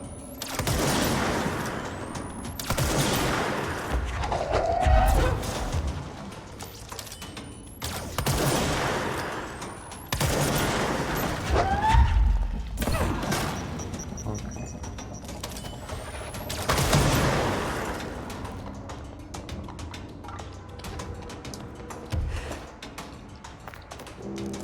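Bursts of gunfire from the video game Control ring out in several loud volleys spaced a few seconds apart, each a dense cluster of sharp shots with lingering rumble between them.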